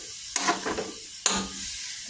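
Beef steak slices for bistek frying in a hot pan, a close crackling sizzle punctuated by two sharp bursts as pieces are stirred or turned.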